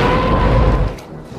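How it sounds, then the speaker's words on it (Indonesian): Grenade explosion in the film Rambo III, a heavy booming rumble that sustains for most of a second and then drops to a lower, fading tail. "Dengan cerdiknya, Rainbow menarik pelatuk granat dan menerjang Udin hingga membuat Udin terjatuh dan meledak."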